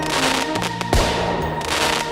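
Fireworks and firecrackers go off at a Brazilian festa junina, a quick run of sharp pops and one louder bang over dense festive background noise.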